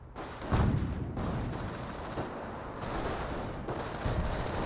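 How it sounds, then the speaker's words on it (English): Dense suppressive gunfire from Panzer Grenadiers in Company of Heroes, a steady loud fusillade of overlapping shots rolling on throughout with heavier bursts scattered in. "Does use suppressive fire ability there onto those riflemen."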